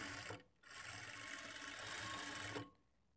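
Sewing machine stitching the second part of a lined blouse in a continuous whirring run, briefly interrupted near the start and then stopping, heard close with no voices.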